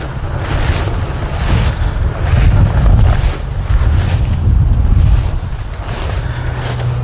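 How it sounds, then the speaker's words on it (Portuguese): Steady roar of highway traffic heard from a hilltop near a rural village between Mandaguari and Arapongas, a broad continuous wash with rising and falling swells, mixed with wind buffeting the microphone. "Esse barulho é na rodovia."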